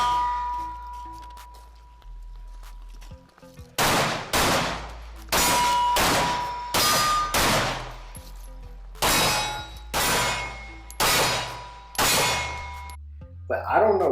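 Bursts of 9mm rounds from a Sig Sauer MPX K ring off steel targets, about ten sharp metallic clangs in uneven groups, loud and close, with brief pauses between strings of shots.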